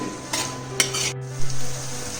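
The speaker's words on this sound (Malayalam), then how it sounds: "ഇതും കൂടെ ഇതിൻ്റെ കൂടെ ഒന്ന് വഴറ്റാം" Ingredients for a Kerala chicken roast are sautéed in a pan, with a close, continuous sizzle and a few sharp scrapes and clinks of the spatula against the metal.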